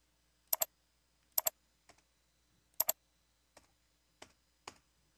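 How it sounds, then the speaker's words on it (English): Sparse clicks on a computer keyboard, a handful of isolated keystrokes, some in quick pairs, spaced out against near silence, faint and close. "just type in Arial"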